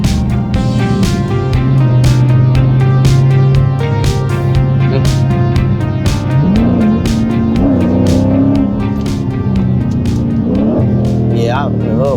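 A Dodge Challenger 392 Scat Pack V8 fitted with a pedal box rumbles steadily, then revs in several rising and falling blips, heard from inside the car with a person talking over it.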